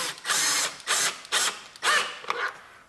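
A ratchet wrench working bolts off the old blower casing of a John Deere lawn tractor, four or five short bursts of rapid clicking, close and without talk.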